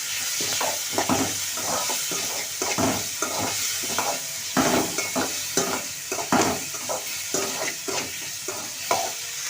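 Tomatoes sautéing in a hot pan for a cluster bean gravy, a loud constant sizzle broken by frequent rhythmic spatula strokes and scrapes against the pan, close up with no voices.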